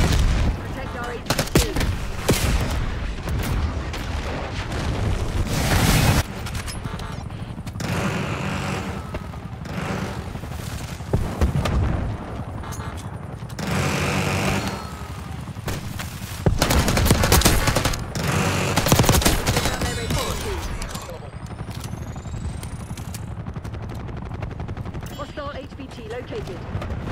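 Dense video-game gunfire in Black Ops 6, with overlapping bursts and shots running throughout under a loud mix, with voices speaking over the action.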